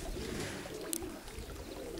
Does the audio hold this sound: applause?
no